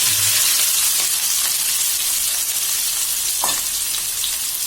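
Onions frying in hot oil right after mustard seeds have popped, a dense, steady loud sizzle with a couple of faint stirring scrapes.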